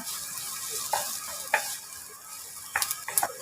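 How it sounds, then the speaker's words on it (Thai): Garlic fries in oil left over from frying shrimp, with a soft steady sizzle under several sharp scraping taps of a utensil stirring in the pan. The sound is close and no one speaks. "เราก็มาคั่วกระเทียมให้เหลืองนะคะ เราจะใช้น้ำมันที่ทอดกุ้งเมื่อสักครู่นี้นะคะ"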